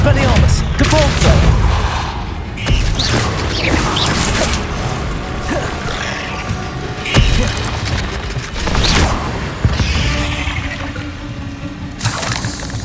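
Spell blasts including Confringo from the video game Hogwarts Legacy burst out in loud, repeated booms and crackling impacts, mixed with whooshing effects and a rushing, water-like wash throughout.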